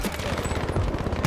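Enemy gunfire in Battlefield V comes as a quick rattling volley of shots, fairly faint and at middle distance, heard with no voice over it.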